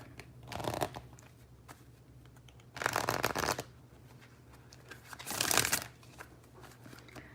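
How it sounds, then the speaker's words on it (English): A deck of cardstock playing cards shuffled by hand in three distinct bursts of crisp riffling, close to the microphone with quiet pauses between them. "I've actually got it to the point where this deck shuffles very nicely for me now"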